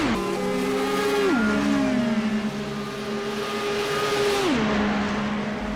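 IndyCar race cars lapping Charlotte oval in a racing video game, a loud steady engine whine that drops in pitch twice as cars pass, with no talk.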